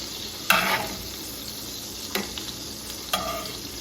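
Halibut fillets and lemon slices sizzle in a frying pan, a steady low hiss broken by three louder bursts as the lemon slices are laid into the hot oil.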